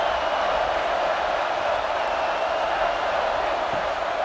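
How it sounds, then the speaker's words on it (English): A stadium crowd at a college football game, Alabama Crimson Tide against Auburn Tigers, rising into a dense, steady roar that fills the whole moment without breaks. "This crowd rising up, sensing that its defense needs some help"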